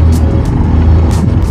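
Road traffic rumbles close by in a continuous loud engine drone, with hissing swells of passing vehicles and no talk.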